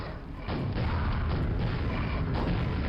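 Booming explosions in the Quake expansion Dissolution of Eternity, a dense, continuous roar of overlapping blasts that swells loud after a brief quieter start.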